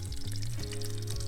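Sausages sizzle and crackle in a pan at a campsite, a steady hiss with a low hum underneath, no voices.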